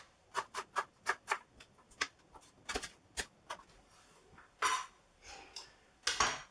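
Knife slicing an onion thinly on a board for caramelised onion chutney: a quick, close series of crisp chopping taps, with a few heavier scraping strokes.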